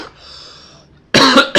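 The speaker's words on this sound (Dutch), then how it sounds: "Even hoesten" A person gives two sharp, close coughs near the end, after a brief faint tone.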